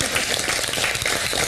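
A TV show audience in the Bigg Boss Malayalam house applauds a dance, dense steady clapping from many hands, loud and close, with no talking.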